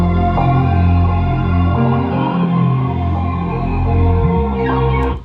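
Music loop sped up to 173 BPM in FL Studio plays steadily and fairly loud throughout, dense layered tones over a pulsing low end, with no talking.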